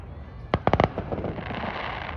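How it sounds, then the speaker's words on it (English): Victoria Day fireworks burst over Linus Park in North York: four sharp booms in quick succession, then a trailing crackle fading into distant rumble. "Wow, how many fireworks have they lit up?"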